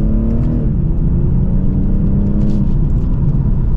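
A 2024 BMW 840i xDrive Coupe accelerates hard in sport mode in second gear, its engine note rising steadily as a loud, continuous rumble and whir from inside the cabin, with no talking.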